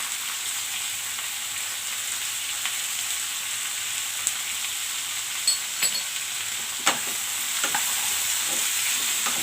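Kudri, carrot and potato fry in a pan with salt and turmeric, a steady bright sizzle running throughout, broken by occasional soft scrapes and clicks of a spoon as the vegetables are stirred; no voices.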